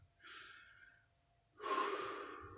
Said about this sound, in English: you breathe faster and heavier